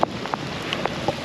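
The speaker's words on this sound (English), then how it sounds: "It's raining bad. Flash flood, isn't it?" Heavy rain falling during a flash flood, a brief burst of scattered drops and patter over a steady wash of noise, close and fairly loud.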